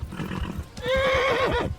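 A horse in the Kingdom Come Deliverance video game snorts and shuffles briefly, then lets out a loud, close, drawn-out whinny that rises and falls before fading, with no talk over it.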